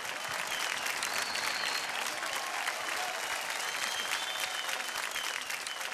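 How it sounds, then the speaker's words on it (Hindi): Loud, sustained applause from a large studio audience at a TV dance competition, dense clapping continuing evenly throughout without a break. "जोरदार तालियां हो जाए"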